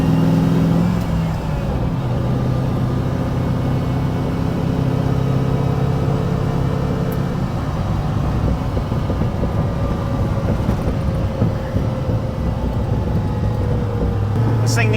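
A Dodge W200 truck pulls away in first gear, its engine a steady, loud low drone with rising whine throughout, close by and continuous with no talk.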